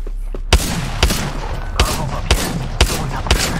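Shotgun blasts in Apex Legends, about seven loud booming shots spaced roughly half a second apart over steady game noise, close and punchy.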